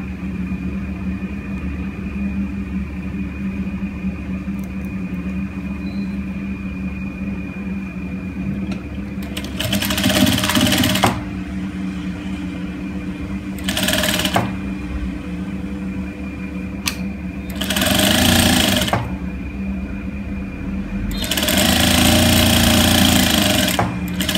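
A sewing machine stitches the side seam of a ladies' top in four short bursts of whirring, separated by pauses, over a constant low hum in the room.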